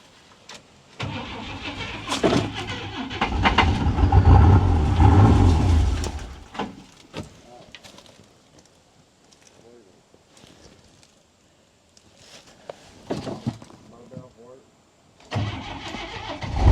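An old engine, its bottom end previously clattering, runs again after a restart, loud and rough for several seconds, then drops to a quieter idle before rising again near the end, with voices talking over it.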